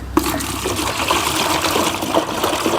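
Water, about five litres from a ten-litre bottle, pours steadily into a bucket, making a close, splashing, gurgling stream with small uneven surges.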